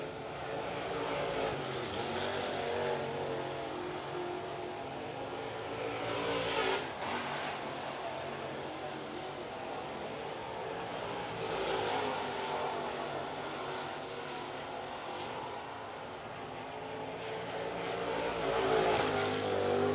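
Late model race cars roar around Cherokee Speedway during qualifying, a loud continuous engine drone that swells and fades as cars pass, with no talk over it.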